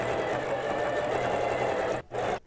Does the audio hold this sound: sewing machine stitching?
yes